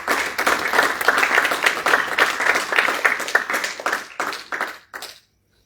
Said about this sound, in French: Et nous acclamons le Seigneur pour sa bonne parole.